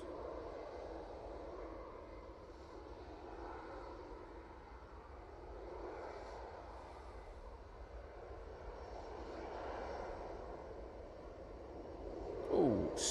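An Air Canada airliner lands at Manchester Airport, its jet roar a broad steady rumble that rises and falls slightly from a distance, with no talking.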